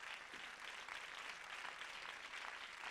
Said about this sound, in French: On peut applaudir aussi Rokhaya Diallo qui est venue ici pour témoig